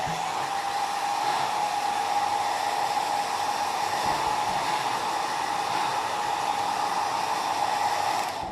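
A hair dryer blows on paint drying on textured bottles, a loud, steady close-up whoosh with a constant motor hum that runs unbroken throughout.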